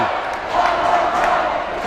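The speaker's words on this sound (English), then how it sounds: "As the crowd starts to chant, one more point, one more point" A crowd in a school gym chants rhythmically during a high-school volleyball match, loud and continuous with several voices blending together.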